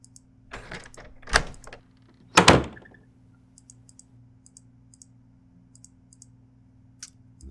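A trap door opens in the video game Bear Fighter with a few heavy wooden clunks and thuds, the loudest midway through, then a trail of faint small clicks with no voices.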